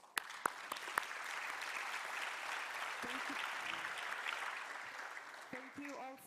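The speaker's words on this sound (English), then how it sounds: "please join me in giving the distinguished panelists and experts a big round of applause" Audience applause for distinguished panelists at the IGF 2018 cybersecurity, trust and privacy session, with sustained clapping from a medium crowd in a conference hall, a few sharp claps standing out, and a voice speaking as it fades.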